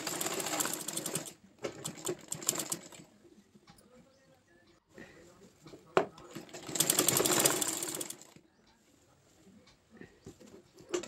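A sewing machine stitches pieces of a summer frock together with a double-foot stitch, running in bursts of fast mechanical chatter broken by pauses, while a voice talks between the runs.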